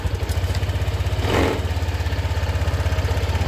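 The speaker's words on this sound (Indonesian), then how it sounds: "Motor udah jalan ya, udah normal kembali." A Honda PCX 160 scooter engine idling after repair of wiring chewed by rats, a close, steady low putter with rhythmic pulses and a brief rise in the middle, no talking.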